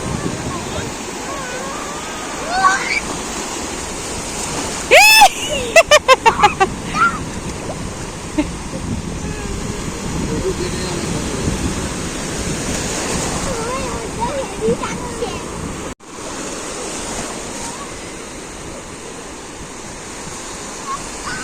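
Sea waves wash up on a beach where people are bathing, a loud continuous surf roar with wind buffeting the microphone and a brief burst of clatter partway through.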